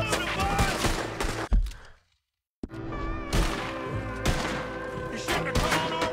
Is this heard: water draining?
no